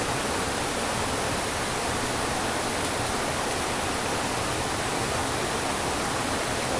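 A September stream in the Konkan rushes loudly and continuously over rocks, a steady broadband roar with no voices.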